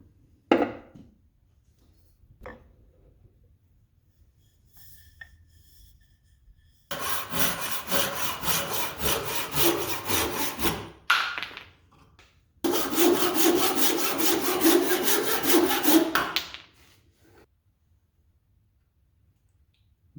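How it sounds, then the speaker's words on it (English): A handsaw cuts through a wooden handle for an old roughing gouge in two bursts of rhythmic rasping strokes, close and fairly loud, separated by quiet pauses with a few light taps and handling noises. "I'll just take it out at the chucks and cut it with this handsaw"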